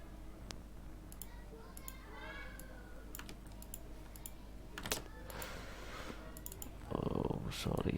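Numbers typed on a computer keyboard, a quiet run of light key taps and clicks close by, with a short louder rustle near the end.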